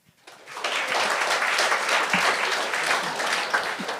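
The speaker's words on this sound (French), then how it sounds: "J'aimerais ça savoir, s'il vous plaît, par applaudissement, qui ici aime les champignons?" A comedy show audience on Le Gong Show breaks into applause, rising quickly from quiet into a dense, sustained roar of clapping that fills the room, loud and unbroken by talk.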